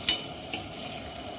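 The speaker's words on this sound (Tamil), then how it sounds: "வெங்காயம் நல்லா பொன்னிறம் ஆகிற வரைக்கும் இப்படியே வதக்கிட்டு இருக்கலாம்." Onions sautéing and being stirred in a pan for chicken curry, with a sharp scrape near the start and then a steady close sizzle of frying.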